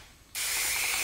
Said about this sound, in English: This sprayer is crazy.